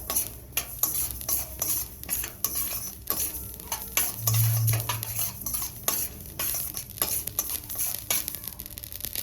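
Gongura leaves fry in a pan for pickle, a close, lively sizzle broken by repeated spatula scrapes and clinks against the metal, with no one talking.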